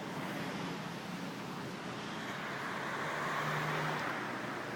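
Road traffic of cars queued behind a cyclist, heard as a steady, moderately loud roadway rumble with a brief low engine tone, no voices over it.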